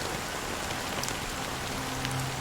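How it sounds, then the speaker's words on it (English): Continuous rain pours in Honkai: Star Rail, a dense, even patter of drops on surfaces with a faint low drone, heard alone without voices. "It's still raining."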